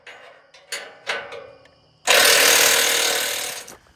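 A power tool tightens down freshly welded sawmill track: a few knocks and short bursts come first, then a loud, steady, close-up whirring run of nearly two seconds before it cuts off.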